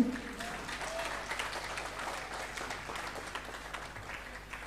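An audience at an Islamic sermon claps in a steady, moderate round of applause, slightly distant, with faint voices mixed in.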